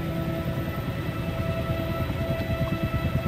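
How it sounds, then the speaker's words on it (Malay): A Wasp helicopter flies at about 100 speed near Lempuyang temple in Bali, giving a steady throbbing rotor drone with a constant low rumble and no pauses or talking. "saya bawa warps ni sebab dia paling stable sekali antara semua helikopter yang saya ada"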